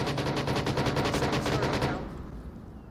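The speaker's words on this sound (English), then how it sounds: "Rushik's laying that gunfire, hoping to suppress." Rapid automatic gunfire in the virtual reality shooter Onward VR, a dense burst of evenly spaced shots for about two seconds that then cuts off into a fading echo tail.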